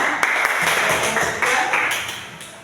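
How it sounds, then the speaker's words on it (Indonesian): A class of children in a Christian religious education lesson claps together, a fairly loud, uneven burst of hand claps that thins and tapers over a few seconds. "Ya, beri tepuk tangan."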